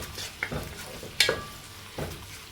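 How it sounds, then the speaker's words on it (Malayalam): Sliced onions and curry leaves sautéing in a pan for a carrot and egg dish: a soft background sizzle broken by a few sharp spatula scrapes and taps. "സവാള വാടി തുടങ്ങുമ്പോൾ ഒരു രണ്ട് തണ്ട് കറിവേപ്പിലിട്ടിട്ട് ഒന്ന് മൂപ്പിച്ചെടുക്കുക"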